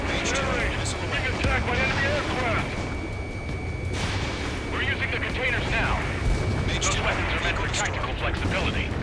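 Anti-aircraft guns fire continuously against attacking aircraft in the Ace Combat 7 combat flight video game. The rumbling, rapid bursts sound steady and loud beneath engine roar, with radio voices and chatter mixed in throughout.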